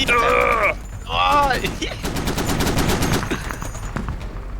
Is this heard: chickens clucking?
no